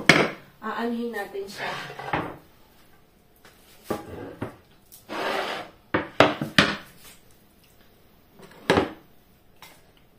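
Raw chicken cut into pieces on a wooden board, with sparse sharp chops and knocks between quiet gaps, close up, and someone speaking briefly in between.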